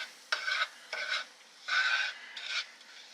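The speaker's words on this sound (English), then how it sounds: "we do want the butter to brown" Butter browning in a CeramiClad non-stick frying pan gives four short bursts of sizzling and scraping as the pan is worked, separated by brief quiet gaps, close and moderately loud.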